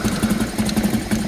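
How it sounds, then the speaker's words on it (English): Harley-Davidson EVO Softail engine idling with a steady, rhythmic mechanical knock and rattle, like a loose metal part tumbling inside, repeating evenly and close without any talk. "Sounds like there's a metal ball rolling around inside my engine."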